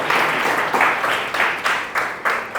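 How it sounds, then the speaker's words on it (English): Audience at a UI/UX design workshop clapping in a short burst, with the applause swelling in uneven waves over a couple of seconds. "let's give them a round of applause for this opportunity"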